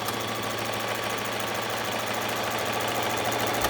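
A Bernette b05 sewing machine runs steadily while stitching a buttonhole, giving a continuous close mechanical hum and rapid needle rattle with no pauses.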